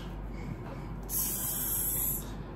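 A spray bottle misting water onto a child's hair during a haircut, a single soft hiss lasting about a second, close by over a quiet room.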